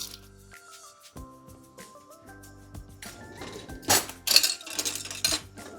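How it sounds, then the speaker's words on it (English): Peaches scooped onto a rustic peach galette with a metal slotted spoon, giving close clinks and scrapes against a bowl that grow louder and busier toward the end. "I'm going to use a slotted spoon to put my peaches on here"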